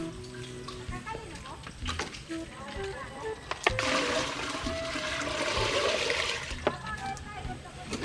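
Water gushes and splashes into a container from a homemade deep well pressure pump, a steady, close pouring rush that swells midway, with occasional clanks.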